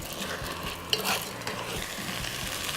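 Rice gently sautéed in a pan for paella, a steady low sizzle with a few soft stirring scrapes, close and fairly quiet with no talk.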